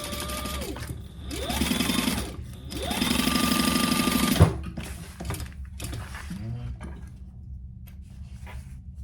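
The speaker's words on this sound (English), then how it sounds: "We are going to do the same thing by splaying that seam open and top stitching," A sewing machine top stitching an opened seam runs in two sustained bursts of rapid whirring stitching, close and fairly loud, followed by quieter handling clicks and rustling.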